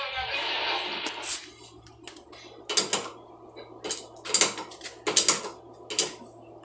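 Steel puller and hammer strikes working the timing device off a 10PD1 diesel injection pump: a run of sharp metallic knocks, several in quick clusters, close and moderately loud over a steady low hum.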